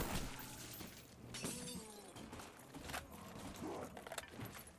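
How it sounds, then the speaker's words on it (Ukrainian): Several sharp, close M14 carbine shots ring out in the Call of Duty: Black Ops zombies mode, each followed by clattering game effects, all without talk. "Стріляти доведеться два рази, бо карабін М14, який ми будемо використовувати, вбиває зомбі з двох пострілів."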